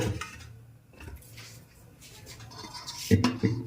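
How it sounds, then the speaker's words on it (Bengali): Metal pot lid lifted off a pot of boiling water while steaming cauliflower puli pitha, with a few close clanks and rattles of cookware and a short scrape. "এখন ঢাকনাটা খুলে নিচ্ছি"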